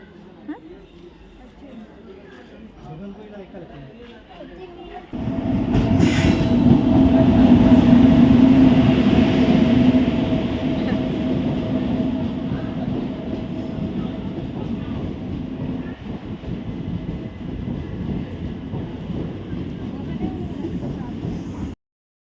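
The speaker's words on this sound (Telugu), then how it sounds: "ఇక్కడైతే ఇంకా ట్రైన్లో ఎక్కినాము" A passenger train rumbles along steadily after a quieter start, its rolling clatter loud and continuous, with people talking faintly inside the carriage.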